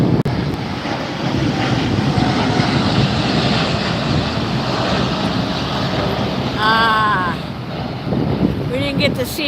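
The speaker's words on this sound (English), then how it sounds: "There goes the KLM." A KLM airliner passes overhead at Los Angeles Airport under a gathering marine layer, its broad engine roar mixed with wind buffeting the microphone, and a brief voice near the end.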